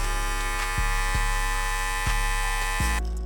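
Andis ReVITE cordless hair clippers run plugged in with a steady, loud electric buzz and rich harmonic hum, broken by a few brief low clicks or dips as they are handled, with a small shift in tone near the end.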